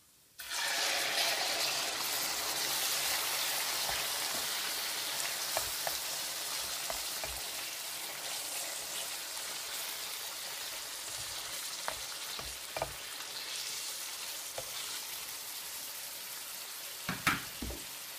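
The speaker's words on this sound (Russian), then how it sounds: "в этом масле мы быстро будем обжаривать печенку" Chicken liver hitting hot oil in a pan, an immediate loud hiss that settles into a steady close sizzle, with occasional small pops and utensil knocks near the end, no voices.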